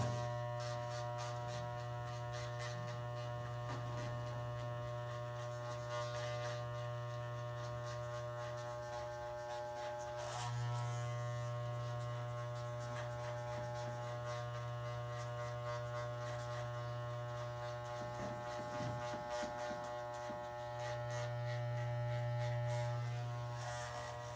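A hair clipper with its lever pushed fully up, cutting a low fade, buzzes in a steady continuous drone with a strong low hum, close and constant throughout, with slight swells as it moves across the hair.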